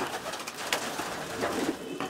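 A pigeon cooing in short, soft, low calls that stand a little above a constant background noise, with no talk over it.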